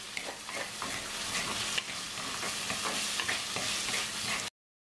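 Ground spice paste for a Sri Lankan spicy crab curry sizzles steadily in a pan while a spoon stirs and scrapes through it, a close, continuous frying hiss with light clinks, no voices, ending abruptly.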